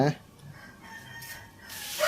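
A chicken held against a person's body for a fowl cholera vaccination gives a brief cluck at the start and another near the end, with faint background noise between.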